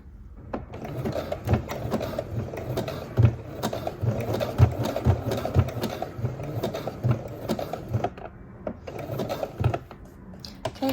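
A sewing machine runs in repeated bursts of rapid mechanical stitching on fabric, close and clear, its whirring motor and needle clatter rising and falling with short pauses between runs.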